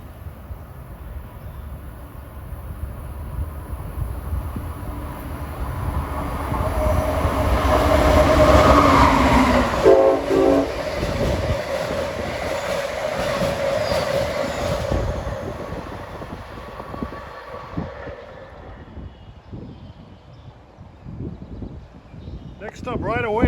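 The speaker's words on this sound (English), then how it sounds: "we have a New York bound Amtrak train number 82, bound for New York. Starting to pick up speed after negotiating the Elizabeth S curves" Amtrak train 82, bound for New York, picks up speed after the Elizabeth S curves in New Jersey, rumbling and clacking as it passes close by, swelling to a peak midway, then fading as it moves away.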